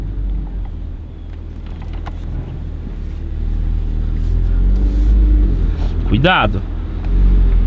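A Porsche Boxster engine rumbles low and steady under excited talk in the cabin, the drone building as the car pulls harder, with a sharp whine near the end.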